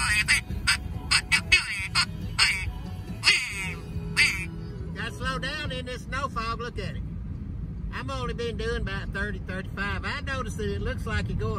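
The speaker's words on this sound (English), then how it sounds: "I gotta put this duck call back in my mouth." A blue-winged teal duck call is blown in quick bursts of nasal quacks and rapid chatter, loud and close, with a lull in the middle, over a low steady engine hum from a boat.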